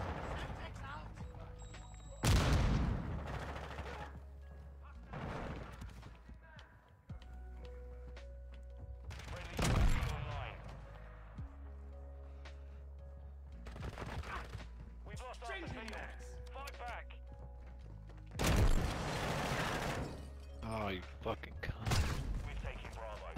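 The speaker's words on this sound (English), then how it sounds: "Is this like a sniper or is this a shotgun? It sounds like a shotgun the way it" Shotgun blasts in a first-person shooter video game beta, several loud booming shots spaced seconds apart, mixed with other game noises and people talking.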